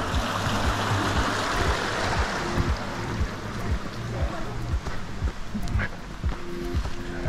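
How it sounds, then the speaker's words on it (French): Running water from a stream crossed during a 25 km mountain trail race in Auvergne, a steady rushing wash heard close, mixed with footsteps and movement. "va falloir qu'on passe le ruisseau à un moment donné"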